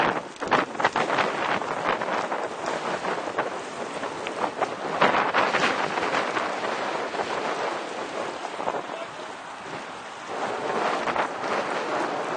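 Wind buffets a sailing boat tacking in roughly 20 mph winds, a loud rushing roar with gusty microphone rumble that swells and eases throughout, with no voices.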